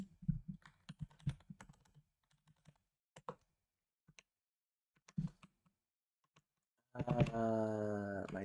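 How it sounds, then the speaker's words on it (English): Fast, crisp clatter of keys on a Japanese computer keyboard, a loud continuous burst close to the microphone after a stretch of faint, scattered clicks. "My Japanese keyboard."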